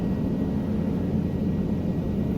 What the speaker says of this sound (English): I was kind of trying to hover here and move in slow, but I'm still learning this helicopter